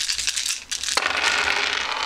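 Several dice tossed together onto a table in a game of chance, a rapid cluster of bright clattering rattles and skittering that settles into a busy hiss, close and fairly loud with no talking.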